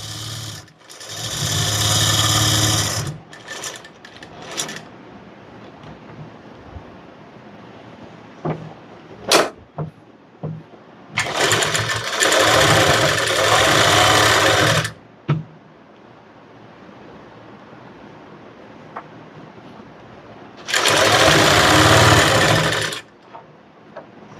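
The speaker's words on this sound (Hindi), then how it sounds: "सबसे पहले मैं यहाँ पे आसन की सिलाई लगा रही हूँ" A sewing machine stitches the seat seam of a ladies' summer coat-suit in three loud, steady runs of a few seconds each, separated by quieter gaps with small clicks and handling sounds.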